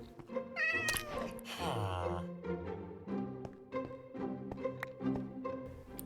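A Minecraft cat meows repeatedly, with a few drawn-out meows near the start followed by steady game clicks and soft background sounds, clear and close.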